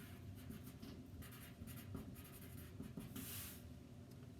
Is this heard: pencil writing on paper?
yes